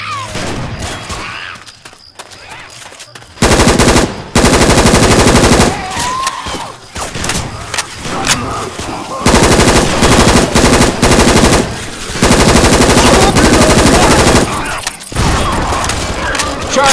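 HK416 rifle fire in Left 4 Dead 2, loud sustained automatic bursts repeating in several long volleys separated by brief pauses and reload clatter.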